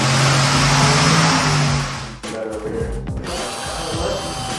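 A dyno-mounted engine runs with a Summit Turbo Muffler exhaust, a loud, harsh roaring drone that dips briefly and then carries on at steady revs, with voices faintly underneath.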